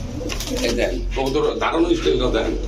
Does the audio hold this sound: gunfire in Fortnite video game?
no